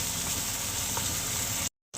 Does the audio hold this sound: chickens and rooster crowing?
no